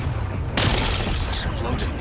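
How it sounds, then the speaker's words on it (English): A sudden loud blast in the Horizon Forbidden West video game as rocks are blown away to expose a power cell, a sharp broadband boom that breaks in after a quiet start and leaves a sustained rumbling wash. "Gotta blast away some rocks, so I can expose the power cell."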